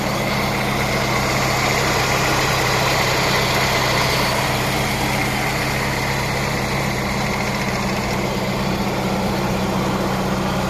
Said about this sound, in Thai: นี่ครับเครื่องยนต์นะ ไม่มีเสียงวาว ไม่มีเสียงอะไรทั้งสิ้นนะฮะ รถเครื่องนิ่งๆ นะฮะ